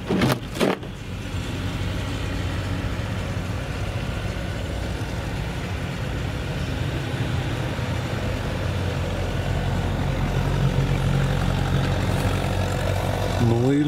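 Tractors clearing snow from the streets of Poltava in winter give a steady, loud low engine rumble with a continuous drone that runs unbroken, joined by a brief voice near the start.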